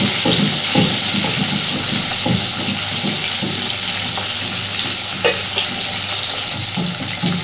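Magur catfish frying in hot oil, a steady dense sizzle and crackle that runs unbroken and fairly loud with no voices.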